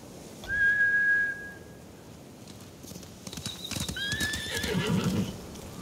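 Horses in the Ghost of Tsushima video game: a loud whinny comes first, then hooves clatter and a second neigh rises with whistling as the animals run off.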